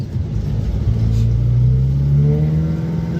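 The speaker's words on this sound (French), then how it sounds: "Le son du moteur, j'adore." A Simca Aronde car engine revs up close, its rumbling drone rising steadily in pitch over a few seconds, loud and alone.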